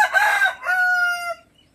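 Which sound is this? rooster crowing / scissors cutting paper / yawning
rooster crowing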